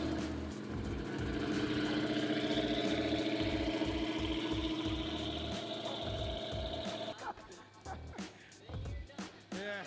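A Hellcat-engined Mazda Miata on a dyno holds a loud, steady engine drone with rumbling low pulses, then cuts off abruptly near the end, leaving clattery shop noise and voices.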